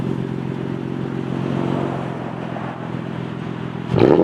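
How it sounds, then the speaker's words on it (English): A 2015 Toyota Tacoma TRD with an aftermarket exhaust idles with a low, steady rumble before a sharp blip of revs near the end. "look at the nice exhaust. I'll rev it up for you guys. It has the aftermarket exhaust"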